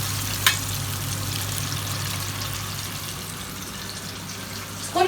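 Chicken wings sizzle in hot oil, a steady, close frying hiss, with a couple of brief clinks as they are stirred at the start and the end.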